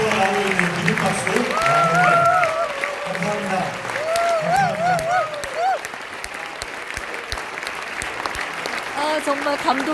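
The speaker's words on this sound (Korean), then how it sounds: "기립박수가 나오고 있는 기립박수." Standing ovation from the audience at a Korean-American freedom friendship night, steady crowd clapping throughout while a speaker talks and voices thanks over it.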